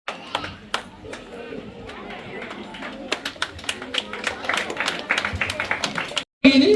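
Audience applause at a Tamil community honouring ceremony: sustained crowd clapping with scattered sharp claps and murmuring chatter, swelling louder toward the end before a brief cut.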